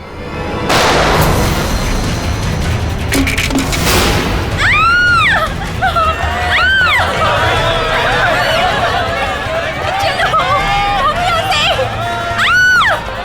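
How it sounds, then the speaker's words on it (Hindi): A sharp gunshot bang rings out in a TV crime drama scene, followed by further booms and a chaotic mix of raised voices and commotion. "अरे गोली चलने की आवाज कहाँ से आई?"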